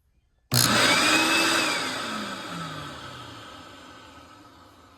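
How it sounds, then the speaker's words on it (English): A Rug Doctor Mighty Pro X3 carpet cleaner motor starts suddenly and runs with a loud whirring hum, a falling whine sweeping down as it settles, then gradually easing in loudness. "So I'm gonna turn the pump."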